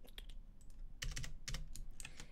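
Rapid typing on a computer keyboard, a quick run of crisp clicking keystrokes with a few heavier key thuds, close and steady with no talk.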